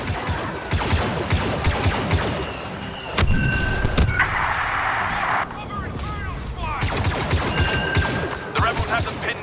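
Sustained blaster fire in Star Wars Battlefront II: overlapping bursts of laser shots near and far, with sharp zaps and a brief whining tone in the middle of a chaotic battle.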